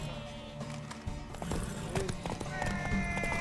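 Horse hooves clop along in The Witcher 3, a steady run of hoofbeats mixed under game music and voices talking over it.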